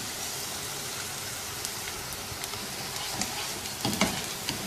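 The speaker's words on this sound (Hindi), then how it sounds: "प्याज को जस्ट इतनी देर तक पकाना है कि इसकी रंगत हल्की सी तब्दील होकर गुलाबी माइल सी हो जाए।" Chopped onion fries in a karahi with a steady, close hiss and crackle, and a few stirring scrapes near the end.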